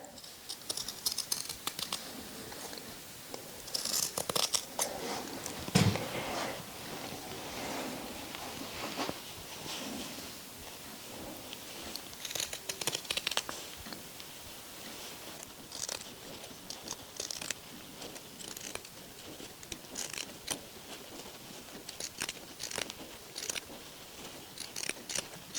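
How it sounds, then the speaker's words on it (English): Scissors cutting along the sleeve seam allowance of a cotton T-shirt, close and quiet, with repeated crisp snips and fabric rustle in irregular bursts, one sharper snip standing out near the middle. "cutting right along the stitching on the inside of the sleeve allowance so that it doesn't cut off any more than just that seam allowance"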